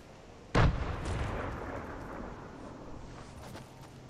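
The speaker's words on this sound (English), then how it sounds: "I hear shooting." A single sharp, loud gunshot blast from Fortnite gameplay rings out early, then trails into a long reverberant rumble that slowly fades under steady game ambience.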